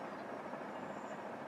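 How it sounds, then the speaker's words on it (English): Distant logging trucks heading downhill, heard outdoors during an eclipse viewing as a low, continuous broadband rumble with no distinct events, faint and steady throughout. "You can hear the logging trucks"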